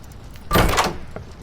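A door swings open in the horror video game Doors, one brief burst of creaking and whooshing that lasts about half a second, loud and close, with nothing around it but quiet room tone.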